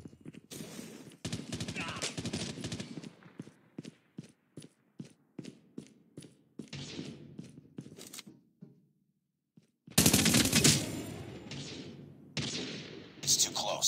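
Bursts of gunfire in Call of Duty: Mobile frontline combat, rapid repeated shots in short volleys, then a brief lull before a loud dense barrage resumes near the end, with game voice lines mixed in.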